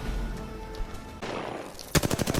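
Video game gunfire in Apex Legends from the Prowler and R-301 weapons. A sustained burst is followed by a rapid, sharply rhythmic volley near the end, loud and close with no talking.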